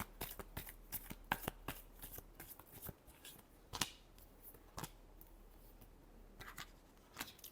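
Tarot cards shuffled by hand in a quiet room, a steady run of soft riffling flicks and sharp snaps, close and alone, with brief pauses between bursts.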